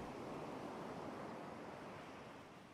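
Ocean waves in a hardcore survival video game, a soft continuous wash of surf with a gentle windy hiss, faint and steady, slowly easing toward the end.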